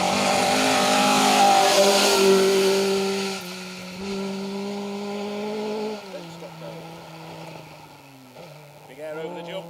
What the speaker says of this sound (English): Big air over the jump for Ben and Josh Carr in the Eton Yale coloured, Castrol coloured Mark II Escort